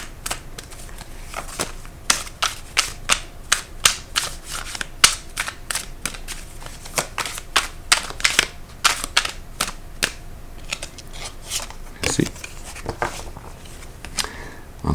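Tarot cards being shuffled by hand, a steady run of crisp flicking snaps and riffles at close range, repeated through the whole stretch with no talking.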